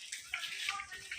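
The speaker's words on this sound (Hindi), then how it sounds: "देखो स्टार्टिंग में ही कितना सुंदर ऊपर से पानी आते हैं।" Water pours down from above during a jungle trek in heavy rain, a close, bright splashing rush with a few louder surges over the short stretch.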